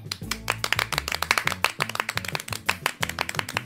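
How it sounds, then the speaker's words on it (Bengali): Rapid, uneven hand clapping from a small group, sharp claps repeating continuously over a steady low musical drone. "সবাই হাততালি দে রে, হাততালি দে, হাততালি দে"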